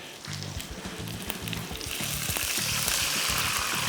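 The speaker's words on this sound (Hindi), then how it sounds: "थोड़ा सा इसके अंदर डालूंगा मैं पानी, ठीक है जी।" Water poured into a hot pan for cooking rice, a loud steady sizzle and hiss that grows brighter and stronger partway through, with faint clinking underneath.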